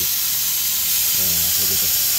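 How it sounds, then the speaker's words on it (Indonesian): An engine cleaning gun driven by a 1 PK compressor sprays soapy water onto a Toyota Camry Hybrid's car air conditioner, giving a loud, continuous hiss with a brief low voice murmuring partway through. "Pakai engine cleaning gun sama kompresor 1 PK."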